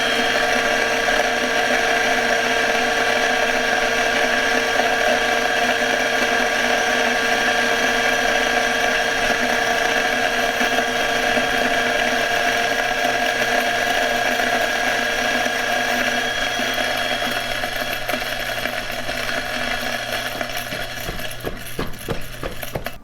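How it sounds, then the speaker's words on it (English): A Ceado E5SD espresso grinder grinds coffee into a portafilter with a loud, steady motor whir that holds for over twenty seconds, turning rougher and more rattly near the end. "Should be pretty easy to use as an espresso grinder on the daily, especially at home."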